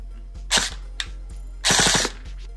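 An HK416 airsoft rifle fires in two short bursts of rapid shots, heard close and loud over a faint steady hum, with a single click between the bursts.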